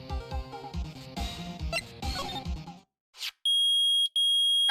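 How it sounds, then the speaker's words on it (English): Electronic beeping from a metal detector in a Phoenix Wright video game, heard as a steady high tone that pulses in two long bursts after a stretch of game music, loud and close. "it's beeping! The metal detector found something!"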